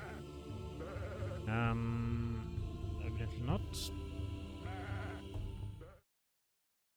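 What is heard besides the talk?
goats bleating in a pirate video game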